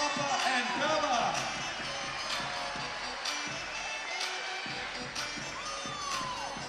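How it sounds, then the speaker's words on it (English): A big home crowd cheers and applauds in an arena at a Wellington Saints versus Nelson Giants NZNBL basketball game, a loud sustained roar with whoops and an announcer talking over it. "Ladies and gentlemen, round of applause for Harper and Bella."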